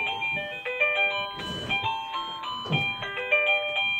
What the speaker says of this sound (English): She hit the doorbell.